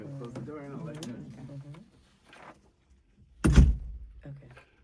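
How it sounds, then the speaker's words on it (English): A single solid thud of a door being shut near the end, loud and close, following someone speaking and a quiet pause, with brief talk resuming just after. "I'm going to close the door"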